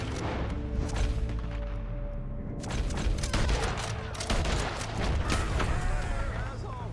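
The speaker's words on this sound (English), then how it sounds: "We're gonna have to shoot our way up there." Gunfire in the Red Dead Redemption 2 video game: a dense, continuous barrage of shots and booms over a loud game soundscape, with voices mixed in.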